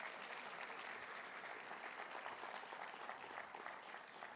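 Steady congregational applause fills a church after a sermon's call to clap for Jesus, dense, even clapping from many hands held at a constant level throughout, no voices standing out.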